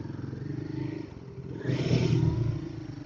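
A Royal Enfield Guerrilla 450 motorcycle rides through city streets, its engine a low, steady drone with rising wind rush that swells midway as it pulls harder, close and continuous throughout.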